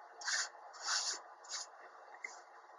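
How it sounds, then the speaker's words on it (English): A hand sweeps excess flour off a kitchen counter while fettuccine dough is made by hand: four soft, brushing rubs in an uneven rhythm, close and quiet, with nothing else heard. "I'm going to sweep away this excess flour here."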